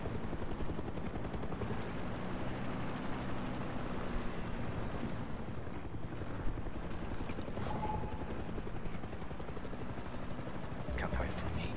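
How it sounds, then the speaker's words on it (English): A helicopter's rotor thumps in a continuous low drone throughout in Far Cry 6, with a few sharp game sound effects near the end. "Leave me alone, helicopter."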